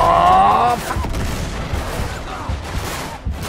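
Gunfire from a firefight in the video game Uncharted 3: Drake's Deception Remastered: a brief tonal whine, then a continuous burst of booming shots and rumbling blasts that stays loud throughout.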